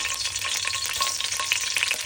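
Masala spices frying and sizzling in a pan for Chikkudu Kaya curry, a steady close crackle with a few stirring scrapes.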